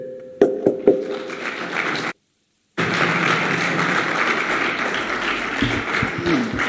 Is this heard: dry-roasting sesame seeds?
no